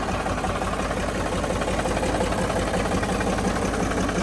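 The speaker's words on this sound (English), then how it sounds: "3 cylinders of Caterpillar Diesel Fury." A 1937 Caterpillar RD6 three-cylinder diesel running steadily close by, a loud, even, rapid knocking chug with no voices over it.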